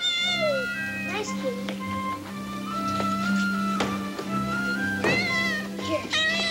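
A cat meows repeatedly in clear, close bursts over steady background hum, with a voice calling to it in the middle of the scene; several rising and falling meows stand out loudly.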